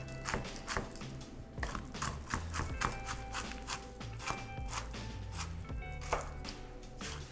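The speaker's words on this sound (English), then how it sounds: "And I roughly chop them." Pecans are roughly chopped with a knife on a board, a quick irregular series of close, sharp taps and knocks repeating throughout, fairly faint overall.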